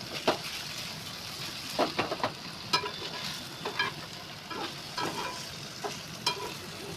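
Paneer sizzles in a frying pan with a continuous soft crackle, broken by several sharp scrapes and clinks of a utensil stirring against the pan, close and moderately quiet.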